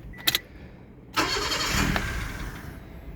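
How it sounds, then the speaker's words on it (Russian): A Toyota 1SZ-FE car engine being started: a couple of quick clicks, then the starter cranks and the engine catches into a loud, steady run, close by. "Сразу скажу, будет очень шумно, так как запущу машину."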